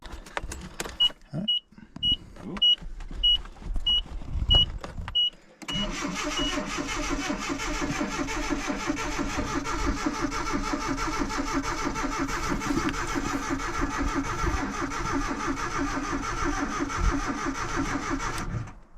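An old five-speed truck that sat dead in a field cranks over in a few short bursts with a faint beeping, then catches and settles into a loud, steady idle that runs on alone.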